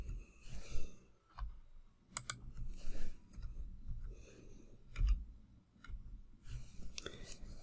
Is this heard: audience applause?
no